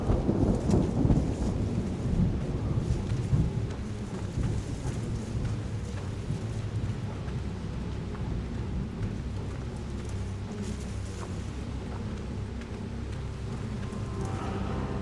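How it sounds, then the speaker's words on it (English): A thunderstorm in the horror game Outlast II rumbles with deep, rolling thunder that is strongest at the start, under a steady wash of rain that continues throughout. "Okay, it is lightning."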